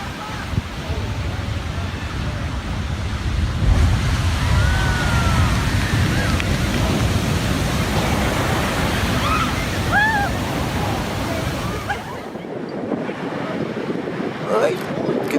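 Large ocean waves crash along the Kauai, Hawaii shore in a loud, continuous roar, with wind buffeting throughout and the surf easing slightly near the end.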